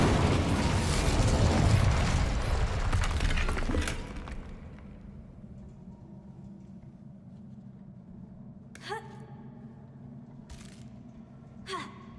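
A fire spell cast in Hogwarts Legacy: a loud roaring whoosh of flame bursts out, holds for a few seconds, then fades into a quiet low hum, with a couple of brief bright chimes afterward.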